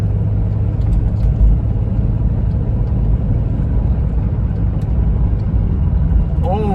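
A Jeep engine drones steadily at highway speed in fourth gear, a constant low rumble with road noise that holds even and unbroken throughout.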